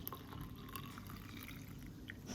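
Hot water is poured over coffee grounds while making iced coffee, giving a soft, continuous trickling and pouring sound at low volume with no talking.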